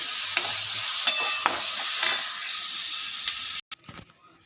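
Onion and egg bhurji mixture sizzling and frying in a pan, a steady close hiss with a few scraping stirs, ending in a sudden cutoff and brief clatter.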